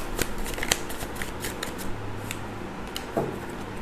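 Tarot cards being shuffled and drawn from the deck, a run of quick papery riffles and snaps at close range over a low steady hum, with no talking.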